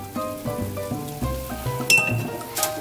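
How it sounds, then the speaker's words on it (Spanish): Zucchini and panela cheese soup being stirred in a pot, with clinks of a utensil against the pot over a bubbling, sizzling simmer, close and steady with no talking. "y revolvemos perfectamente bien para que siga hirviendo nuestra sopita"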